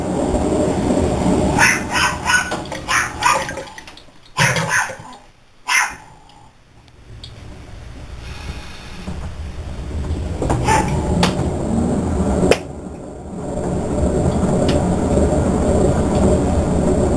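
A Whirlpool Cabrio washing machine runs noisily as a steady rumbling drone, with dogs barking loudly in bursts over it early on before the machine continues alone.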